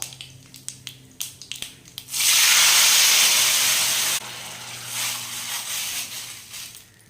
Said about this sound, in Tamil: இது நல்லா கொதிக்கட்டுங்க